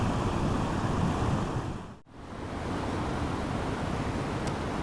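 A steady, full rush of flowing water from a mountain stream fills the clip, close and constant, with a brief dip in the middle before it resumes, in the Carança gorges of the Catalan Pyrenees.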